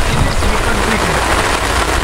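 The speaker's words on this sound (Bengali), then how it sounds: "তুমুল বৃষ্টি" Heavy rain pouring down outdoors in a rural fishing spot, a loud, dense, unbroken hiss of drops striking surfaces up close, with no voices.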